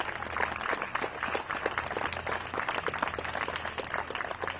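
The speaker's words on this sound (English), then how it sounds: "So, give yourself a big round of applause." Outdoor crowd at a community park rededication applauding, a steady patter of many hands clapping at moderate volume over a low background hum.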